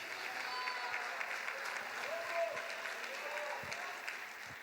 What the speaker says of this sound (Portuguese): Aplauda o nome de Jesus, diga glória a Deus